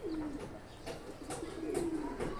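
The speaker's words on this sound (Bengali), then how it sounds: "এই নরটা খুব সুন্দর একটা কবুতর" Low, rolling coos from a green-necked male pigeon repeat several times at moderate distance, quiet under a constant background hiss.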